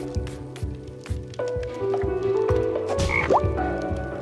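Frog croaking in the Toki Tori 2+ game, with loud rhythmic croaks repeating over bubbly, squishy effects and a rising chirp near the end.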